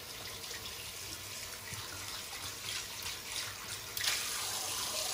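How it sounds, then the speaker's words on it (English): Shaving soap rinsed under a running tap, a steady broadband water rush that holds throughout and swells slightly louder near the end. "let's rinse off this soap here."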